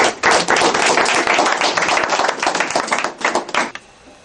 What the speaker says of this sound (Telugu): మనమందరం చప్పట్లు కొట్టి అయ్యగారిని ఆహ్వానిద్దాం